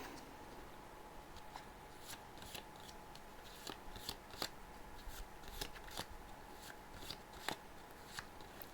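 A deck of My Little Pony Adventures in Equestria deck-building game cards is shuffled by hand, producing soft, close riffles and crisp card snaps at irregular intervals, quiet and alone.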